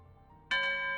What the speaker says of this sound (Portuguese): Acordou assustado com o badalar dos sinos da meia-noite.